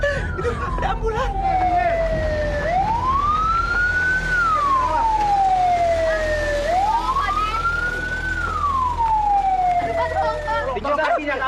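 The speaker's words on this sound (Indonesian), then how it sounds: "Itu ada ambulan." An ambulance siren wails in slow rising and falling sweeps, loud and close, repeating twice over a steady background hum with some voices around it.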